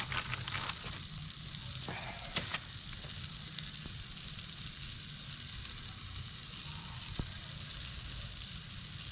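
Swiss cheese slices melt on buns in a cast iron pan over a steady, close sizzle, with a few light scrapes and taps early on and no speech.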